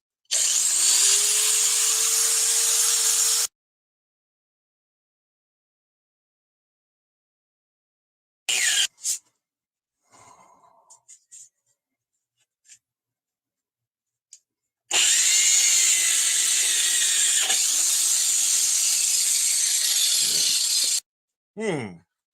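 Power tool run against a stain on a jacket, long shrill whirring bursts that start and stop, with gaps of silence and brief rubbing between them.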